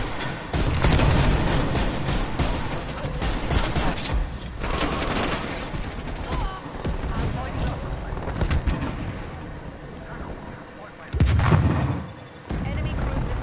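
Explosions and bursts of gunfire from a first-person shooter match, with a frag grenade blast among dense, continuous loud combat noise that stays busy throughout, a heavy boom standing out near the end.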